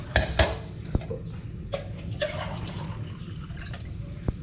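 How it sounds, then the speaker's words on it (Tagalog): Broth is poured into a pot of sardine sinigang with kamias, onion and tomato, bringing soft watery sloshing along with several sharp clinks of a utensil against the pot at close range. "Dagdagan po natin yung sabaw."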